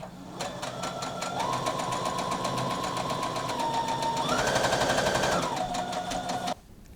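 A sewing machine runs at short stitch length along the neckline of a summer top, a fast steady rattling hum that shifts pitch midway and stops abruptly near the end.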